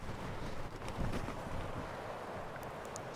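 Steady wind buffets the microphone at an abandoned mountain mine in Arizona, a constant rushing roar with low rumbling gusts and no speech.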